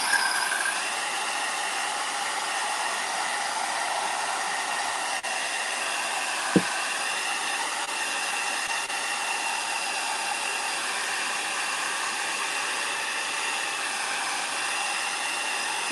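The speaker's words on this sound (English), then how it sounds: "And then we're going to hit it with a blow dryer." A blow dryer runs to dry paint on a gingerbread house, giving a steady, unbroken whooshing drone at close range, with one brief sharp click partway through.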